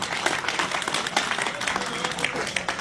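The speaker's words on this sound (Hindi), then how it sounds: "जोरदार तालियां बजाओ भाई" Applause from an audience at a political rally in Ramgarh, welcoming an MLA being garlanded on stage; dense, steady clapping at moderate distance with voices mixed in.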